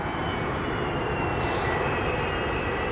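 A United Boeing 777-200 airliner at London Heathrow Airport gives off a continuous, loud jet-engine roar. The sound stays broad and even the whole time, swelling only slightly, and there is no speech.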